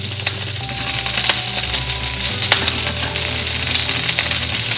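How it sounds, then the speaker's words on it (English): Cauliflower and garlic sizzling in a hot pan, a steady loud crackling fry with occasional sharp pops and faint clinks of a utensil, no talking. "Look at the sizzling noise, love it."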